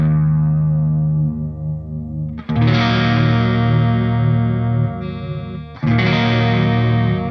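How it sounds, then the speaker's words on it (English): Electric guitar through an MXR Wylde Audio WA38 or Boss CE-5 chorus pedal, with the chorus applied only to the low end. Loud distorted chords ring out in two strums, the bass notes wobbling while the highs stay steady. "You hear the low frequencies wobble. On the highs, there's no chorusing."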